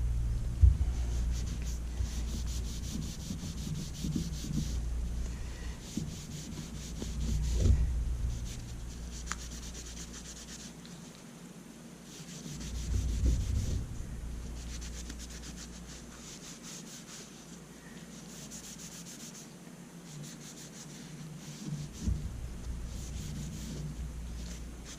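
A cloth rubs and wipes across solid walnut wood bricks being finished with oil, soft, close swishing strokes that swell and fade over a low background rumble.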